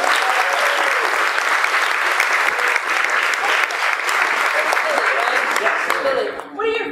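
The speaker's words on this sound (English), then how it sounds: "All right, I'm going to give a big round of applause to them." Theater audience applause, loud and sustained from the start, dense overlapping claps with some voices mixed in, tapering slightly near the end.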